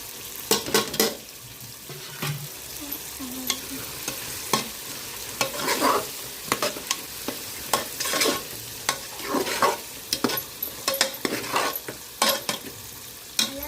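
Spices and masala powders are sautéed for chicken biryani, a close continuous sizzle punctuated by frequent loud spatula scrapes and clatters against the pot, with no talking.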